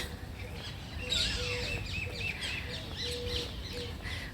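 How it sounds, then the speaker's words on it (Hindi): Several birds chirp and tweet repeatedly outdoors at moderate distance, with a steady low background rumble beneath the calls. "चिड़िया चहचहा रही हैं"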